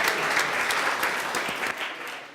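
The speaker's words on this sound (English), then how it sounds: "Can we give it a round of applause?" A short burst of audience applause at a tech summit talk, dense clapping from a roomful of people that holds briefly and begins to thin out.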